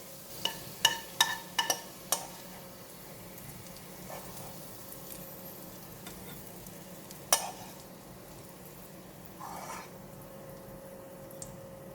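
Garlic frying in oil in a pan for fried rice vermicelli, a steady low sizzle running throughout, broken by a few sharp clinks and scrapes from stirring near the start and once midway.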